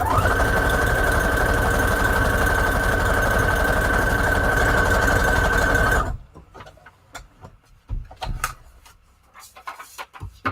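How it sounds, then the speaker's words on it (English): A sewing machine runs steadily for about six seconds, zigzag stitching fabric scraps onto a junk journal cover made from a Little Golden Book, loud and close with a whining hum, then stops, leaving soft handling clicks and rustles. "let me just zigzag stitch this on"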